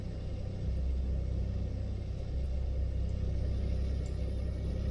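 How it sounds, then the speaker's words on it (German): A DAF truck engine in Euro Truck Simulator 2 drones steadily at low pitch, a continuous heavy rumble cruising along a French road with no talk over it. "Auch wenn der DAF so geil klingt"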